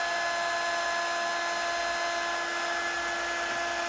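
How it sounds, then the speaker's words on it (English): A heat gun blows steadily on silver embossing powder on a Christmas tree card, giving a loud, unbroken whirring hiss with no talk. "we're just going to move the heat gun over the image like so"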